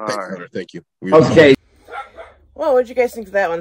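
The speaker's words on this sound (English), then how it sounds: "Sorry for the barking dog." A dog gives a short burst of loud barking near a person who is speaking before and after it.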